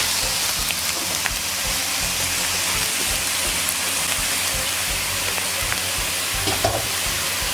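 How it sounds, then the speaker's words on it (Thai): Glass noodles and enoki mushrooms stir-fry in a hot pan with a steady, close, hissing sizzle and faint scraping stirs throughout, with no talking. "ผัดจนเส้นเหนียวนุ่มๆนะคะ"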